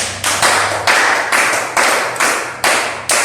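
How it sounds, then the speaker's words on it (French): Rhythmic clapping from an audience at a French-language sales and decision-making talk, about eight sharp, evenly spaced claps in unison, close and loud, with no voices. "Applaudissez-vous."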